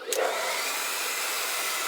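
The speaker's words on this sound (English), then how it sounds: "You're gonna get your blow dryer, and it's gonna be a little loud." A handheld blow dryer roars continuously at close range while drying hair for a synthetic T-part wig install, a loud, steady whooshing hiss that holds level throughout, with no talking.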